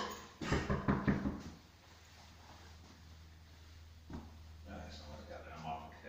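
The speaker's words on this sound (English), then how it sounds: "You've just knocked at his door." Police knocking hard on the door of a residential flat, a rapid burst of close, loud raps followed by a quiet stretch with faint voices and movement in the background.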